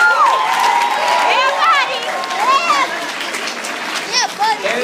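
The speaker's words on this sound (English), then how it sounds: "please give her a round of applause." A school crowd claps and cheers for the principal at an empowerment presentation, with children's high shouts and whoops riding over steady applause and some talk mixed in.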